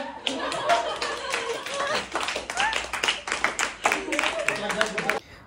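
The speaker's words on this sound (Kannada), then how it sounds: "ಚಪ್ಪಾಳೆ." Family members at a New Year party game clap their hands in quick, uneven bursts close by, with talk and some chuckles mixed in among the claps.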